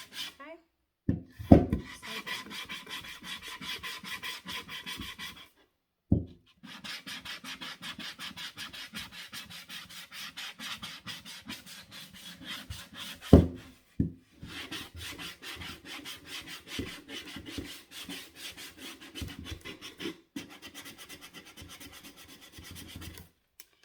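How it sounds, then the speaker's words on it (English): Wood being hand-sanded across its top and sides, steady rapid rasping strokes up close, in long runs broken by short pauses and a few sharp knocks. "So you're just going to sand it all across."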